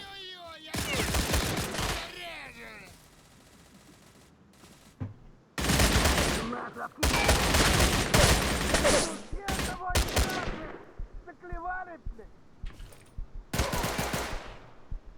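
Rapid automatic gunfire from the video game StalCraft, coming in loud, dense bursts separated by brief pauses, with some quieter stretches and faint game sounds in between.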